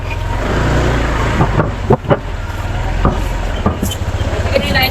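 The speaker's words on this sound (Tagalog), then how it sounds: "Painitin lang natin ng konti itong motor." A motorcycle engine idles and revs in short bursts, loud and close, as it warms up, with people talking nearby.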